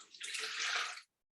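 Cornflour mixed with liquid pours into a Thermomix jug, a short close splashing rush lasting under a second before cutting off to silence, with no voices.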